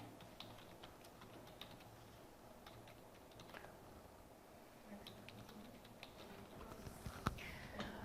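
Typing on a computer keyboard while working in desktop reference software, a steady run of quiet, close key clicks with a few sharper taps near the end.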